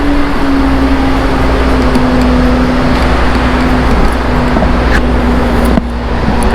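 Steady roadway traffic at a small new truck stop, a loud continuous rumble with an idling engine hum and passing vehicles, with no talking.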